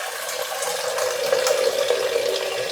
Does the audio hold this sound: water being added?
yes